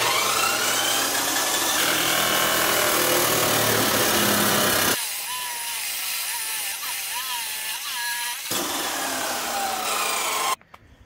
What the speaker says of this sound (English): So we're just gonna cut this real quick.